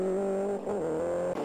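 Arcade racing game car engine with tyres skidding over gravel, a sustained whining motor tone with rough scraping texture and a couple of brief breaks, loud and close.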